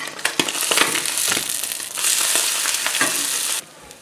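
Tuna bagel mixture sizzles and crackles in melted butter in a pan, a steady close frying hiss with irregular pops and spatters, dropping off sharply near the end.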